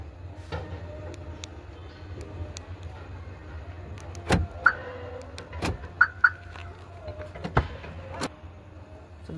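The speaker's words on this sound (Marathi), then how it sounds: "चल अनलॉक करतोय गाडी." A Maruti Alto 800 (2020 model) being unlocked: a few sharp clicks and short electronic chirps come in a quick cluster mid-way, close by over a low steady background rumble.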